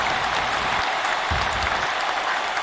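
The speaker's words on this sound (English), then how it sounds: "Round of applause for them" Steady, dense applause fills the room for newly crowned tag-team champions at a Second Life Wrestling RWA show, holding at an even level throughout with no voices over it.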